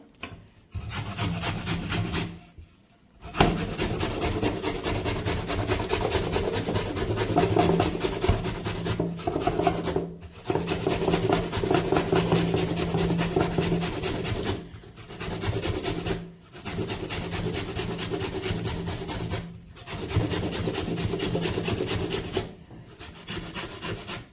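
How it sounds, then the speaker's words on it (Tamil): Carrots are rubbed finely on a hand grater for carrot halwa, producing a steady run of close, loud rasping strokes with a few short pauses and no talking. "இப்போ கேரட்டை நம்ம சொரவி எடுத்துக்கலாம் இந்த மாதிரி நைஸாக இருக்கணும்"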